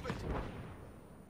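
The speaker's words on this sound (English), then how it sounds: "Sniper fire, move it." Gunfire during a large-scale battalion tactical training exercise, a couple of sharp cracks in quick succession at the start, then a fading rumbling echo, with nothing else in the clip.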